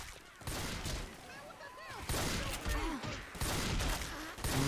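Rapid bursts of gunfire from the Left 4 Dead video game rattle continuously and loudly, with overlapping shots and game effects while voices talk over the action.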